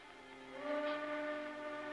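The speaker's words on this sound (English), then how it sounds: "It's only a train whistle you heard, Devoria." A train whistle blows for about a second and a half, a steady multi-tone wail that swells and then holds, heard at moderate distance.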